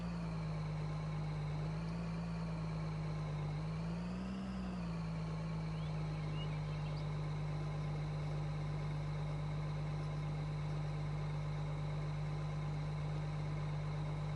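Truck engine idling in Farming Simulator 22, a steady low drone with a couple of slight pitch rises early on, then holding an even, continuous hum throughout, no talk.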